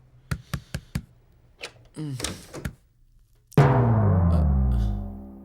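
A sharp series of knocks sounds on a door, four quick raps and then a few more, followed by brief voices and a loud sustained swell of dramatic music from a Hindi-dubbed Telugu film.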